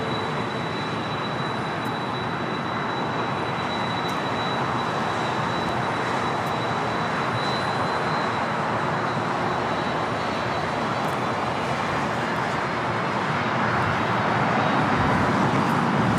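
A Delta 767-300ER arriving at LAX from JFK, its jet engines a steady, loud broadband roar that builds slightly toward the end, with no talk over it.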